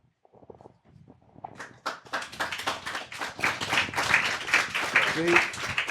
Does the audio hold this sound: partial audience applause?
yes